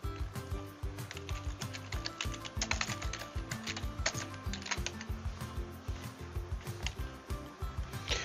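Steady, fast typing on a computer keyboard while entering a chemical description into software, with close, continuous key clicks at a brisk, uneven rhythm and no speech.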